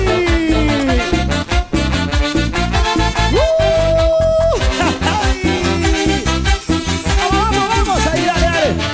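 An Andean cumbia group playing live on stage at an anniversary celebration in Huánuco: a dense, loud band sound with driving bass and percussion beneath bright lead melody lines, continuous throughout.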